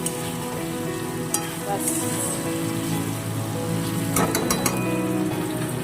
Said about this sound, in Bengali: আলু দিয়ে আর একটু কষিয়ে নিচ্ছে